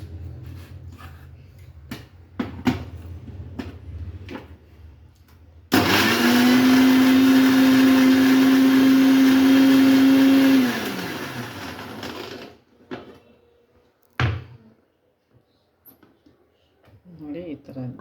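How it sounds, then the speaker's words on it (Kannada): A mixer grinder blends ripe mango into juice, roaring loudly and steadily for about five seconds before winding down, with quieter clatter and a voice talking before and after. "ನಾನೀಗ ಮಿಕ್ಸಿಗೆ ಹಾಕಿದ್ದೀನಿ."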